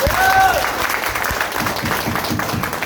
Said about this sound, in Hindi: एक बार ताली देना चाहिए नहीं?